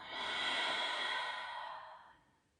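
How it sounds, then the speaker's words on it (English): One slow, breathy exhale from a nearby person, rising smoothly, holding, then fading out over about two seconds in quiet surroundings. "Feel what it's like to breathe in. Notice what it feels like to breathe out."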